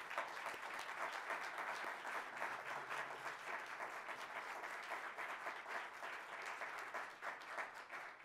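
Steady applause from an audience at a November 2021 municipal council meeting, greeting the newly installed council, with dense clapping holding at an even level throughout and no voices rising above it.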